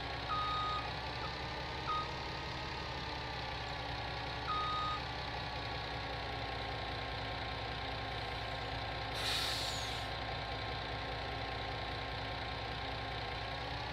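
In Farming Simulator 19, a truck reverses to its trailer while its engine idles steadily. A regular reversing alarm beeps over the engine, and a brief hiss of air brakes comes midway through.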